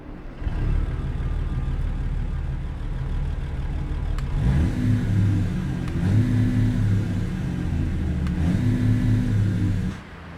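A truck engine in American Truck Simulator rumbles at mid pitch, then revs and climbs through the gears with a steady, close drone. No one speaks.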